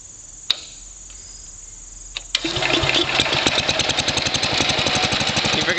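A riding lawn mower engine cranks with a couple of sharp clicks, then catches and runs steadily, a loud close rapid chugging drone that holds without talk over it.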